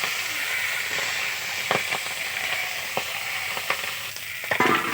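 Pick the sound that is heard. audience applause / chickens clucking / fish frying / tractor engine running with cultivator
fish frying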